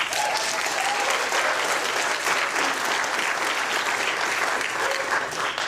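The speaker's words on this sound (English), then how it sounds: "So, Delaware Tech, round of applause." A crowd at a Delaware Tech showcase breaks into sustained applause, dense, even clapping from many hands that stays full and steady throughout.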